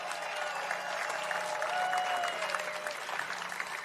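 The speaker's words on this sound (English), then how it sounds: "Big round of applause for the man of the hour, Orel Hershiser." Crowd applause at a Hollywood Walk of Fame star ceremony for baseball pitcher Orel Hershiser, a steady outdoor wash of clapping that swells slightly midway and carries on without pause.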